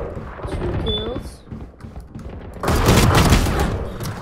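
Weapon fire in a Valorant deathmatch breaks out as a loud burst of rapid shots in the second half, after a stretch of quieter game sounds and someone talking.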